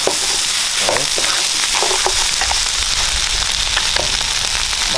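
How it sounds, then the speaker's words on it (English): King crab fried rice stir-frying in a pan: a loud, steady sizzle throughout, with scraping stirring clicks of the spatula against the pan scattered across the stretch. "Give it a little stir."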